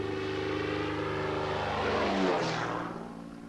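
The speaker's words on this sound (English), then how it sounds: "Each day, this plane sets out on one of the world's longest mail runs." A mail plane flies over the remote Australian outback, its steady engine drone loud and close, swelling as it passes and then easing off with a falling sweep.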